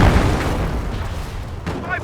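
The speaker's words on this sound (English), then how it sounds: "The Panzer is able to fire more quickly." A German Panzer tank cannon in the Company of Heroes video game fires with a heavy boom, and a rumbling tail decays over about two seconds. The blast is loud and close, and a voice speaks over the tail.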